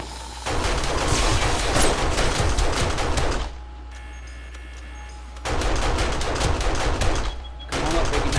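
Turret gunfire in a video game, long loud bursts of rapid automatic fire broken by a couple of pauses in which a quieter electronic hum and faint game sounds remain.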